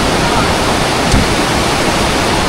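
A river at the India–Nepal border rushes steadily below a bridge, a loud, dense, continuous roar of flowing water that fills the whole clip with no break.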